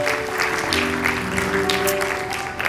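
A church congregation claps together in steady, dense applause that carries through the whole clip. Faint sustained tones sit underneath.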